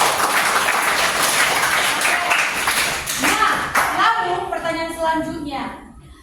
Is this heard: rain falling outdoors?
no